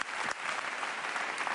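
At a vocal-only sing-off show, an audience applauds a group of sopranos, with a brief, faint, steady patter of clapping heard from a distance.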